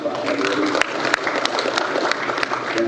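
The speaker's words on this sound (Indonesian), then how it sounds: "Bapak Kapolri Jenderal Listio Sigit Prabowo, tepuk tangan untuk Pak Kapolri." An audience at an Indonesian government ceremony for signing an agricultural cooperation agreement gives sustained applause, a dense, even clatter of many hands clapping.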